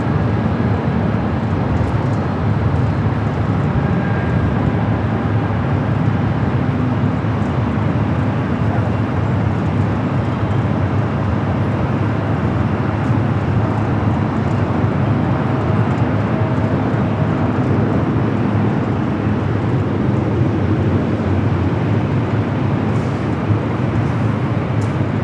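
Jet airliners rumble steadily at Los Angeles LAX airport, a loud continuous broadband roar of engines and ground noise filling the whole stretch without speech.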